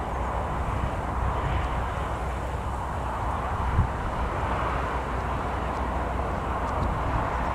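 An airplane approaching to land at Newcastle Airport in a strong crosswind produces a steady, distant-sounding jet roar with airy wind-like hiss, sustained and even throughout.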